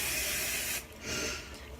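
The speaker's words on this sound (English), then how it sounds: "you spray" Sebastian Shaper Plus hairspray sprayed onto hair styled in an 1880s Victorian fashion, a steady close hiss lasting under a second, then a brief pause and a second, softer burst.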